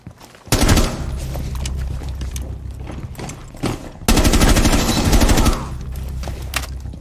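Bursts of automatic weapon fire in the tactical shooter game Rainbow Six Siege, two long loud rapid volleys separated by a stretch of quieter rattling shots and scattered impacts, heard up close without talk.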